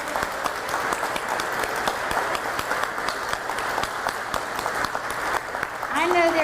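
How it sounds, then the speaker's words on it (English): A crowd applauds and cheers for nurses at an announcement event, sustained clapping of many hands throughout with voices mixed in, swelling slightly louder near the end. "Give them a cheer."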